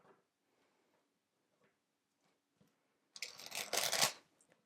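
A vintage tarot deck is shuffled once in a brief, crisp flurry of card riffling after a stretch of near silence with faint handling taps.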